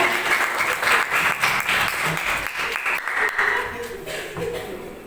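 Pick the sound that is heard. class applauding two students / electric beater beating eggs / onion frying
class applauding two students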